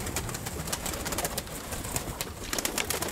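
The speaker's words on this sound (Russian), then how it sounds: "Вот это голубь, вот." Pigeons coo in a breeder's loft of old fighting pigeons, a soft low murmur under steady broadband noise, continuous and fairly close.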